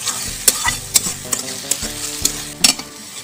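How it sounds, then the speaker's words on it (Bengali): Ginger paste and spices fried and stirred in a pan, close, crisp sizzling punctuated by about half a dozen sharp spatula scrapes and clacks in an uneven rhythm. "এবার এই সব মশলাগুলো খুব ভালোভাবে কষিয়ে নেবেন যতক্ষণ না কাঁচা গন্ধটা যায়"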